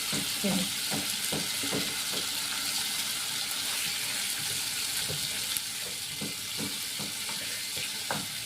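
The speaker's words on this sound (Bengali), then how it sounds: "মাছটা আমি একদম হালকা ভাজবো।" Hilsa fish frying lightly in a pan of oil, a steady close sizzle with scattered spatula scrapes and taps throughout.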